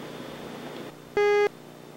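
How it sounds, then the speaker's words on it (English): A single steady answering machine beep, loud and clear, lasting about a third of a second over faint room hiss, with no voices. "Please leave your name, number, and a brief message after the beep"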